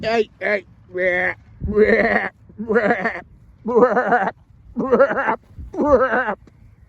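A series of sheep bleats, about eight wavering calls in quick succession, loud and close, with short gaps between them.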